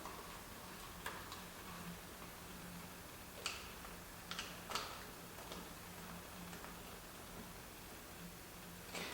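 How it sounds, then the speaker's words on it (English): A small ratchet clicking as oil pan bolts are spun on in a car workshop, faint scattered ticks and short bursts of ratcheting over a quiet background hum, no talk. "we're going to take my small ratchet here, try and get the socket on it, like that, go on here, and we're just going to spin those on"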